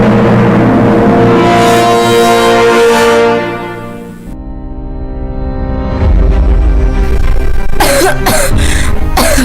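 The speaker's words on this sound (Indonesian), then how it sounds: "Kok tiba-tiba batuk?" A person coughs and clears their throat loudly and close, a harsh rasping burst following a long sustained tonal drone, in an Indonesian public-safety dialogue setting about smoke from burning rubbish.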